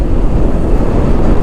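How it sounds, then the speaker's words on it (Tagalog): Loud, rumbling wind from a super typhoon in Manila buffets the microphone continuously, a heavy low roar with no voices. "malakas yung hangin pa sa ngayon"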